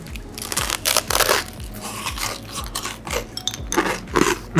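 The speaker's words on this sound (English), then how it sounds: "The crunchiness of the toast is such a good pairing with this slightly oily salmon." Crisp toast topped with slightly oily salmon carpaccio is bitten and chewed up close, producing repeated crunching and crackling bursts in an irregular rhythm with no talk.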